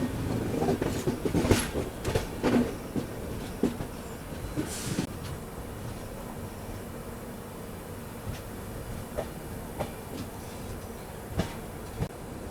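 Rajdhani express pulling into Kozhikode railway station, a steady rumble of carriages with sharp clacking wheel knocks and brief squeals rising over the din, close by and continuous.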